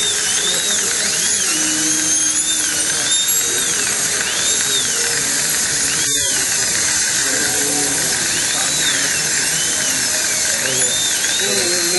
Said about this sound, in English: But it cuts nicely with a cross cut carbide burr.